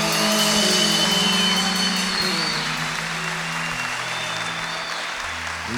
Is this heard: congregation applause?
yes